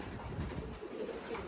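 Pigeons cooing softly at close range, low murmuring calls blending over a muffled background with no talk.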